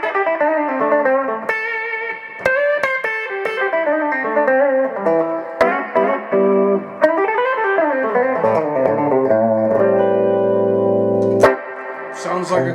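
Electric guitar on the bridge pickup of a cheap lawsuit-style guitar, brighter and more biting, with a continuous run of picked notes and chords up close, ending on a sustained chord before a sharp pick attack.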